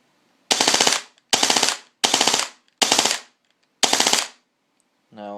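A KSC HK33K airsoft rifle on a 7.4 V LiPo battery dry firing full auto indoors in a house: five sharp, rapid-fire mechanical bursts separated by short pauses, loud and close, with no talking.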